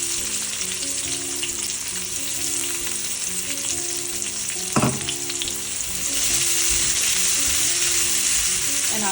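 Chopped onion hits a pan of frying garlic for a plant-based curry, a steady close sizzle that swells louder after a brief clatter midway.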